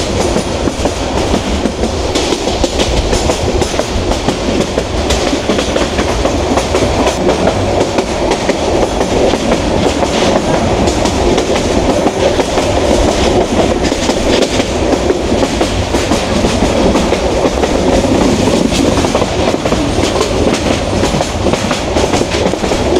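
Jayantika Express train from Dhaka to Sylhet rolling along the rails near Bhanugachh station, a loud, steady close-up roar with continuous clickety-clack of wheels and no talking.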